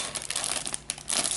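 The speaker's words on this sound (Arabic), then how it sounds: "هشيل من الكيس، هفتح الكيس ده." Plastic bag from a Lego City set crinkling and crackling as it is pulled open, close and fairly loud, with a steady rustle that swells near the end.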